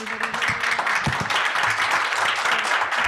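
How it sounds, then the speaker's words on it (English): A final round of applause for an Earth Day DEI panel, steady close clapping from a modest audience that carries evenly through the whole stretch with a few low voices underneath. "just one final round of applause for everybody"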